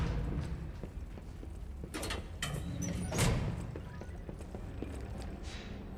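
Donkey hooves clip-clop at a quiet, steady pace in the video game Lies of P, the hoofbeats mixed with soft creaking and mechanical rattling against a low ambient background.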